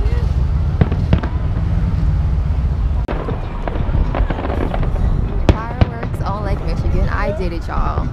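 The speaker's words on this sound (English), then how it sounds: "He's watching the fireworks." Fireworks over Navy Pier in Chicago, heard from a parked car: irregular pops and bangs at a distance under steady background noise, with people talking.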